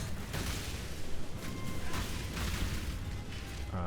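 Explosions in the video game Path of Exile: a dense, rumbling run of repeated bursts and pops, loud and continuous across the moment, without voices.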